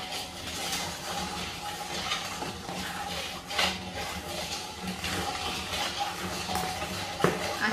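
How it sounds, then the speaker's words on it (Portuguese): Salted butter frying and being stirred in a cooking pan, a steady soft sizzle with occasional scrapes and clinks of a utensil against the pan at close range, no talking. "Aí a gente vai dar uma fritadinha aqui na manteiga."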